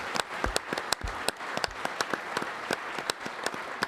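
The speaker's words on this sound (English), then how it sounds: "give them a massive round of applause" Audience applause at a Christmas special event, a steady wash of many hands clapping with sharp individual claps standing out, continuous and fairly close throughout.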